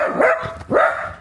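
A pet dog named Popeye gives two loud, close barks, each a short yelping bark separated by about half a second, with no other sound around them.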